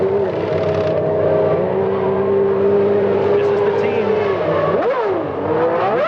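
A 1992 Formula 1 car with a Lamborghini engine climbs rapidly through six gears, its loud engine note rising and dropping with each quick upshift, under a commentator's voice.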